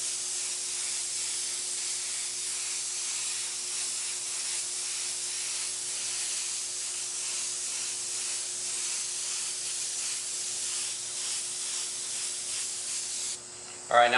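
Spray paint fogging a light coat over a surface, a steady soft hiss lasting over ten seconds, close and even, ending abruptly with a brief clatter.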